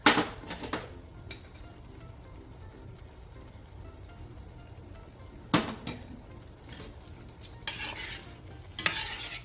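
Fresh tomatoes simmer in a pan for a basil tomato sauce, with a steady low sizzle and a few loud spoon-stirring scrapes at the start and again later, close by and with no talking.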